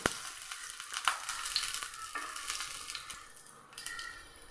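Garlic and ginger sizzle in hot coconut oil in a pan, giving a steady, close hiss and crackle with a few louder spits and no voices.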